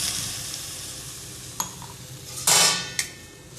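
Toasted bread and milk for bread halwa are stirred in a hot pan with a soft sizzle, while a spoon scrapes and clangs sharply against the metal a few times.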